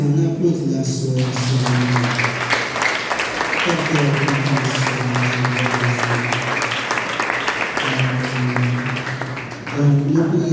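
Church congregation applauding together after worship, steady loud clapping with a sustained tonal hum of voices or music underneath, a voice speaking over it.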